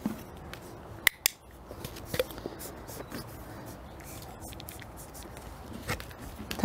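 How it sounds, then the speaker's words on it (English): A handheld clicker used while training Bucky the goat, heard as a couple of sharp close clicks early on and a few lighter ones later, against quiet outdoor background rustle. "I'm clicking when he actually makes contact with it"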